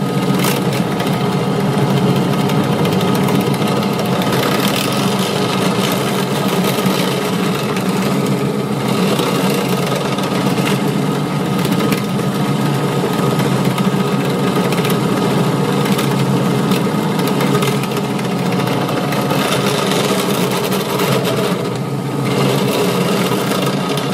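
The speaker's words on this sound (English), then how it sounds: "Just drilled them a little bit up near the edge of the urn" A small drill with a roughly sixteenth-inch bit runs continuously through a wooden urn block, a loud, steady whine close by, holding nearly constant for over twenty seconds with slight dips in load.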